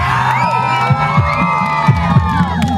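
A crowd at an open breakdance championship in Sukhum cheers and shouts, with children's voices whooping loudly over a pounding bass beat from the event's music, sustained through the moment.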